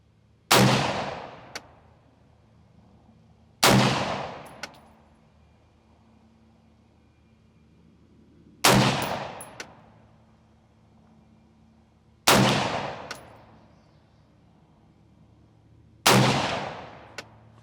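A Kel Tec SU16 rifle fires five sharp shots, each followed by a short decaying echo, at irregular intervals of about three to four seconds, the last one leaving the bolt locked open.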